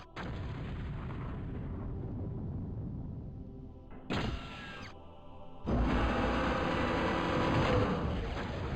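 Big Bertha long-range artillery fires in the strategy game Total Annihilation: a sustained rumbling barrage followed by sharp booming blasts and a heavy explosive roll, loud and dense with no voices.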